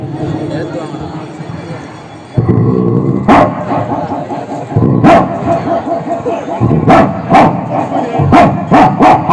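A voice imitating an Alsatian's deep barks, a run of loud, gruff woofs delivered in bursts, close to the microphone.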